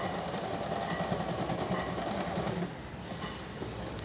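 A sewing machine runs steadily as it stitches a straight-cut ladies' pant, a close, continuous rapid mechanical whir that eases slightly in level near the end, with no voices.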